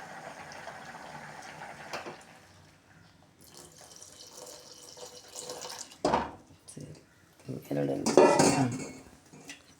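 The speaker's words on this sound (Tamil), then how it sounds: "பாலை ஊற்றிட்டு நம்ம கரண்டியால் இது மாதிரி நல்லா கிண்டி விட்டுடலாம்." Milk poured into a pot of semiya payasam, then stirred with a ladle: a liquid pour and clattering ladle scrapes against the pot, growing louder toward the end, with no talk over it.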